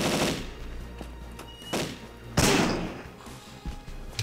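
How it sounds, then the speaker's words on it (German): Gunfire rings out in the video game Cold Zero as a series of sharp shots and short bursts, some close and loud, some fainter, separated by brief pauses. "wir hatten da jetzt eben rumgeballert"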